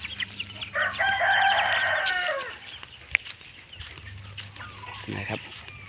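A rooster on a gamecock breeding farm crows once at mid distance, followed by a few sharp clucks and scattered farmyard knocks against low background hum.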